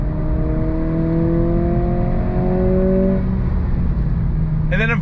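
A 2023 Acura Integra with a 6-speed manual in sport mode accelerates hard, engine pitch climbing steadily for about three seconds before a shift, loud and close inside the cabin, with a brief shout at the end.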